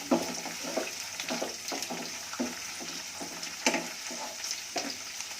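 Carrots and peas cooking in a pan for vangi bath give a steady soft sizzle, broken by repeated clinks and scrapes of stirring at irregular intervals, close and moderately quiet with no voices.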